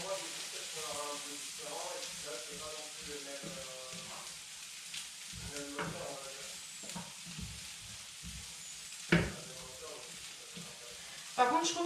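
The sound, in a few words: broccoli and vegetables sizzling while cooking in a pan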